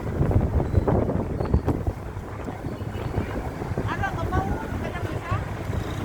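Wind buffeting the microphone at an old site market in San Miguel, Jordan, Guimaras, a steady low rumble with brief gusts, while people talk nearby throughout.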